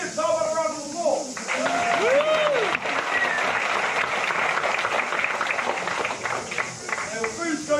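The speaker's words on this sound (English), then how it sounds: "How about a round of applause?" Crowd applause at a Tamaki Village cultural evening before a feast, building into a steady wash of clapping that runs throughout, with voices and singing mixed in at the start and end.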